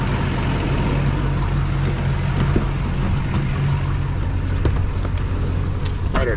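Truck with a crankcase problem being driven on a test drive, a steady low engine and road rumble heard from inside the cab at a constant level throughout, with no talking.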